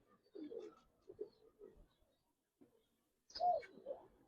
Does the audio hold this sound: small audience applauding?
no